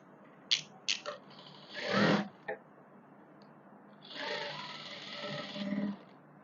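A sewing machine stitching the neckline of a suit, heard as a few short clicks and then two quiet runs of motor-driven stitching in a still room.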